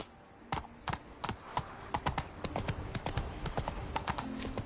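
Horse hooves clip-clop steadily on the ground in The Witcher 3, a rapid, close run of sharp knocks that builds into a continuous trotting rhythm over low ambient game sound.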